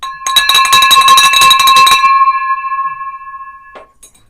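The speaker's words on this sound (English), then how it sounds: "Ring that bell." A bell rung in celebration of a closed real estate deal: a rapid burst of bright metallic strikes for about two seconds, then a long ringing decay fading out, loud and close.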